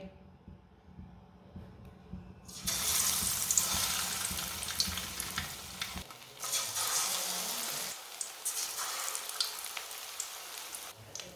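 Vegetable kababs dipped in gram flour batter sizzle loudly as they are dropped into hot oil, a steady crackling fry that starts after a quiet moment and continues with bursts as more pieces go in.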